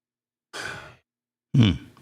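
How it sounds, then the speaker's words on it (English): A person breathes hard: two heavy, close breaths about a second apart, the first a long airy exhale and the second a stronger, huffing breath, with no talking. "You over there breathing hard."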